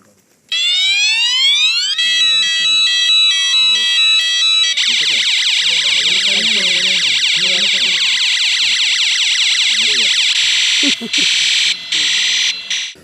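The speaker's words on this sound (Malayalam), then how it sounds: "അതിർത്തികളിൽ എലിഫന്റ് അലാറം സ്ഥാപിച്ചു" A loud electronic elephant-deterrent alarm siren installed at village borders wails continuously, cycling through rising, steady and rapidly warbling tones, with faint voices murmuring underneath.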